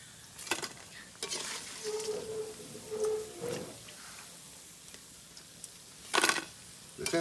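Chickpea onion fritters (piyaju) frying crisply in hot oil, a faint sizzle broken by sharp bursts of scraping and clatter as the fritters are stirred and lifted from the pan.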